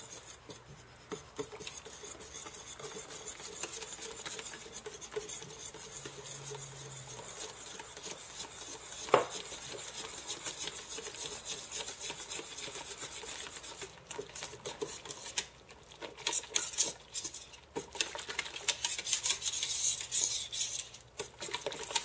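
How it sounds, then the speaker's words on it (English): A whisk stirring raspberry jam in a cooking pot, a steady close scraping and rubbing texture that runs continuously with small clinks and surges in intensity, with no voices. "It's actually easier to do this part with a whisk."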